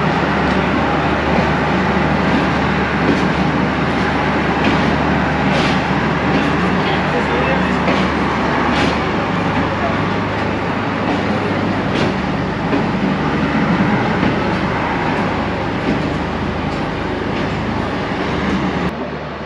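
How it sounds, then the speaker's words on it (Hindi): Loud, steady drone of a power van on a Pakistani express train running along a branch line, a continuous broadband rumble and hiss filling the whole stretch with occasional clanks, with a voice talking over it. "पावर वैन का शोर काफ़ी ज़्यादा है, वो भी आपको विजिबल होगा, सॉरी ऑडिबल होगा"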